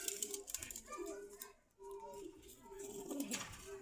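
Pigeons at a pigeon market in Meradia Bazar, Khilgaon, Dhaka give soft, repeated throaty coos nearby, over a light background of market bustle.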